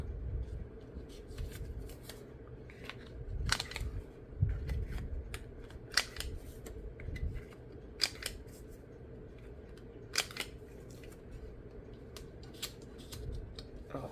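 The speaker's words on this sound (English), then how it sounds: "Let's round these corners with the little bitty one" A small corner-rounding punch clips the corners of a paper journal card, giving several crisp snips and clicks spread irregularly over quiet room noise, with soft paper handling and rustling in between.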